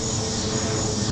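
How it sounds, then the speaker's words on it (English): A steady, droning engine roar from an airplane passing overhead, constant and moderately loud throughout the short stretch. "Gotta wait for that plane to go by."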